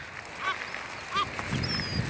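Seagulls feeding on a starfish give a few short, moderately faint calls, spaced irregularly over a soft background hum.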